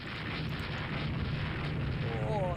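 A torpedo explodes close to a warship in the naval strategy game Rule the Waves 2, heard as a steady, muffled, rumbling blast that holds at moderate level throughout.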